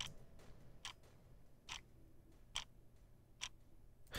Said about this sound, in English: this is a sample I downloaded off freesound.org, and it's just some sort of clock